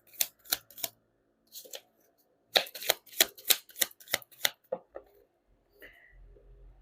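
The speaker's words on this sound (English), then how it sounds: "let's pull up the last set of cards before we end this" Tarot cards riffled and snapped down in quick bursts, a few sharp flicks then a longer run of crisp card slaps, close and clear in a quiet room.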